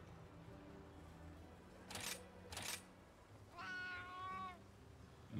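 A cat gives a single clear, drawn-out meow near the end, preceded by two sharp clicks like a camera shutter, over a steady low hum of background noise.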